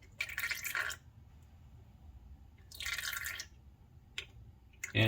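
Power steering fluid from a Subaru WRX STi steering rack, on a 2008–2014 car, drips into a drain pan in a few separate spattering bursts with short single drops between them, close and fairly quiet.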